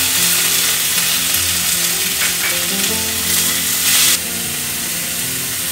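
Onions sizzle loudly in a pan on low heat for dalia khichdi, a steady close-up frying hiss with faint stirring scrapes, running continuously with no talk.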